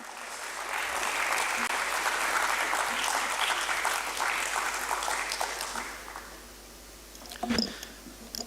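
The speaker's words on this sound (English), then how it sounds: "Can we please have a big round of applause" Audience applause fills a hall at a stock exchange listing ceremony for Neptune Logitek, a dense steady clapping that tapers off after several seconds, followed by a few faint handling thumps.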